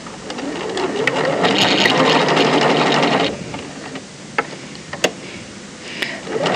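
Sewing machine stitching the shoulder seam of a bagged-out yoke, right sides together; a steady loud run of needle chatter for about three seconds, then stopping, followed by quieter handling clicks and taps.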